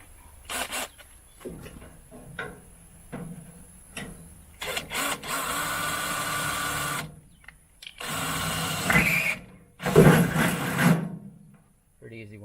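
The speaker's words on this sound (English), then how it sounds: "I'm going to go ahead and drill out all 4 of them." Power drill with reverse drill bits boring holes for bolts and a power cable on a deer feeder; several loud, sustained bursts of whirring with short pauses and handling noise between them.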